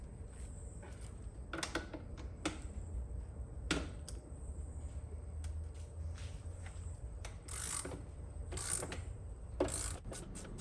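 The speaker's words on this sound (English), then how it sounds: "So I've got a T45 torque bit that I'm going to be using to remove the screws" Ratcheting clicks and metallic scrapes as a T45 torx bit works screws out of a motorcycle, with irregular sharp ticks over a low steady hum at close range.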